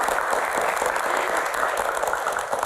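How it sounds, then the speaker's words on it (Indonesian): Studio audience of university students applauding at a talk show taping, a continuous, dense wash of clapping held at steady loudness from start to finish. "Tepuk tangan buat teman-teman semuanya"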